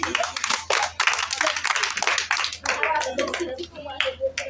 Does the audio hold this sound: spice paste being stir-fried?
no